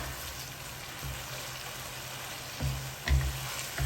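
Noodles stir-fry in a pan with sauce, a continuous close sizzle with scraping stirring strokes and a few louder clunks of the utensil against the pan, no voice over it.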